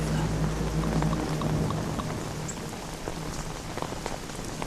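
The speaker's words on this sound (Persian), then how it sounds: "بارانی سیل." Heavy rain falls steadily in a downpour, a dense continuous patter and hiss close by, with a low rumble underneath at first.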